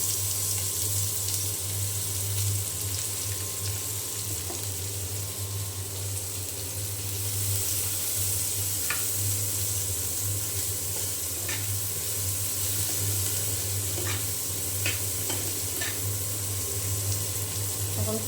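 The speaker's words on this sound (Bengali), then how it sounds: "এখন এই তেলে পেঁয়াজ দিয়ে দিলাম।" Chopped onions frying in hot oil in a pan, a steady soft sizzle with faint crackles and light clinks over a continuous low hum, no voices.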